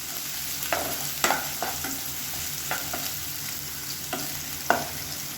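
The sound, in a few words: sautéing chopped onions in a pan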